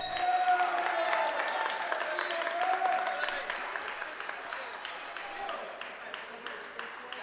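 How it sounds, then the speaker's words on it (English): A crowd of county wrestlers and spectators cheers and applauds at a high school region final wrestling match in a gym, a loud sustained roar with rapid clapping that slowly thins out. "all the county wrestlers have walked over to the mat cheering him on"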